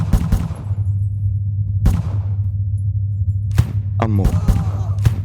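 Video game gunfire from One Armed Robber comes in sharp, loud bursts separated by pauses, over a steady low game hum, with a rapid cluster of shots near the end.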